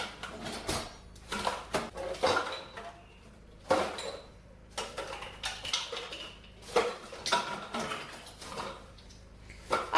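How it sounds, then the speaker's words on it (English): Cutlery and other kitchen items are tossed and clatter into a bin, making a string of irregular metallic clinks and knocks at close range with no talk. "She's throwing the cutlery away as well."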